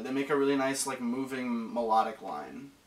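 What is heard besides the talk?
No everyday noises stand out.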